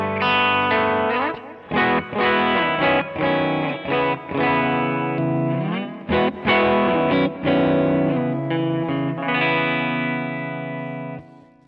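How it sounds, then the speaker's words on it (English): Warmer Vox-style electric guitar tone on a Kemper Liquid Profile with the high end cut back, heard loud and alone in choppy strummed chords and single-note runs that finish on a sustained, fading chord. "try to cut some of that out and make it warm."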